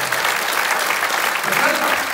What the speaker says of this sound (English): those boys really deserve a massive round of applause